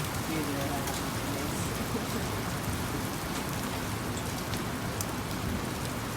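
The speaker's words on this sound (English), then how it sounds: "It wasn't that it was raining hard. It was hailing" Dense hail pelts down during a violent Tucson storm, a steady, loud, hissing rattle of countless impacts with no pauses, filling the whole stretch with no one speaking.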